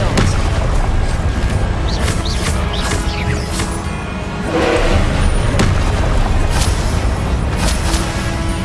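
Confringo fire spell blasts in Hogwarts Legacy, a dense run of booming, crashing impacts and crackles over constant loud game noise, with repeated bursts throughout.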